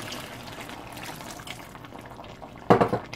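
Rough water noise of a kitchen setting runs throughout, then a cup of water poured into a cooking pot lands as a short, loud splashing gush near the end, close up and with no talking.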